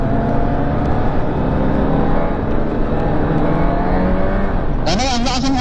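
Honda Hornet 1000 motorcycle at high speed, a loud, continuous engine roar mixed with heavy wind rush, close by, with a higher shifting whine near the end.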